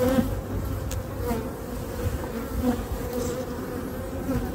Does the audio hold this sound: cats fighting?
no